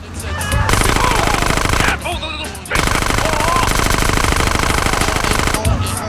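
Rapid automatic gunfire in the video game GTA San Andreas, with dense loud bursts of shots that pause briefly and resume.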